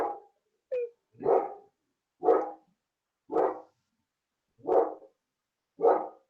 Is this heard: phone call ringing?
no